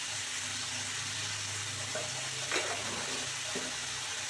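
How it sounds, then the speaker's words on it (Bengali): Vegetables for a Mughlai roll filling (beans, potato, carrot, peas, onion, salt) frying and being stirred in a pan, a continuous hiss with a few light scraping knocks, no speech. "এবার একটু ভেজে নেব সবজিটাকে।"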